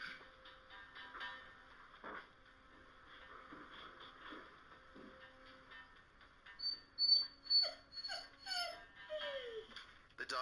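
A stressed dog whimpers in a house, a few soft near whines and high yelps clustering toward the end over quiet background noise.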